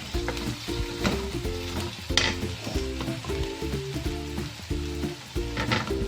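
Steady sizzling and crackling of okra frying in hot oil with garlic and green chilies, with rhythmic stirring scrapes and a few sharp clinks, continuous and close.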